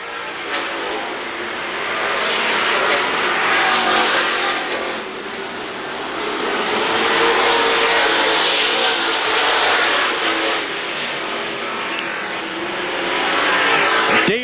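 Pro stock race cars thunder around Seekonk Speedway in a 1986 feature, engines roaring loudly and continuously as the pack surges past and fades, with revving swells and no voices over it.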